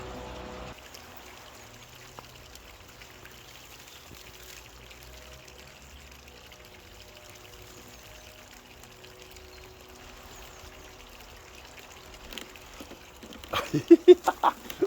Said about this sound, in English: So I've hooked up the hose pipe to the tap. Let's make it rain.